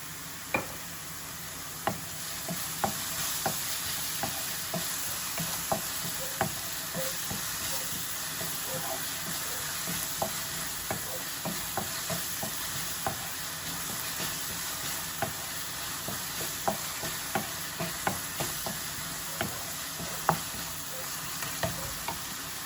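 Onions frying in oil with salt for kalaan kulambu, a constant bright sizzle with frequent sharp ticks of a spatula stirring against the pan, steady and close throughout.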